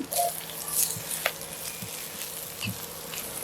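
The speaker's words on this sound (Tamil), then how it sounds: "கருவேப்பிலையே போடுவோம்." Curry leaves hit hot oil for a Jaffna-style mutton rib bone curry, producing close, bright sizzling with scattered pops and crackles over a few seconds, and nobody talking.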